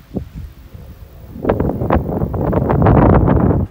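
Strong wind at the top of the Bromley ski slope buffets the microphone with low rumbling gusts that build and swell into a steady roar near the end, with no speech.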